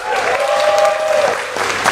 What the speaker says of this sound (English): Can we have a round of applause for Dr.